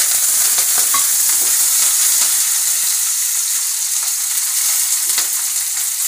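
Curry leaves hit hot oil for tamarind rice and give a loud, bright frying sizzle with crackling pops and stirring. The sizzle stays strong and steady across the whole stretch.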